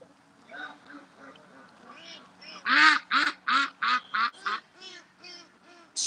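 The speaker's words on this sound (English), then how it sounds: "Oh, I hear a duck sneaking up behind me." A duck quacks in a run of loud, rhythmic calls nearby, starting softly, then rising to a burst of about eight sharp quacks.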